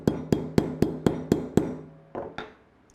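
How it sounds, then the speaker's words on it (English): Hammer tapping a crisp bend in metal wire formed with square mandrel pliers: seven sharp, evenly spaced ringing strikes close by, then two softer taps after a short pause, with no talk. "I can take my hammer and sharpen it up"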